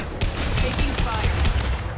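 Sustained automatic gunfire rattles through a firefight in the video game Mass Effect 2, a dense, loud burst of rapid shots lasting about two seconds with voices nearby.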